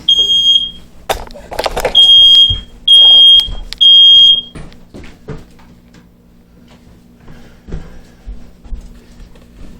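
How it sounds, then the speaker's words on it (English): A home smoke detector shrills in several loud, high-pitched electronic beeps, a quick chirp followed by three longer tones in a row, among clattering handling noises; afterward quieter knocks and rustling continue under a low steady hum. "I have a smoke detector for a reason"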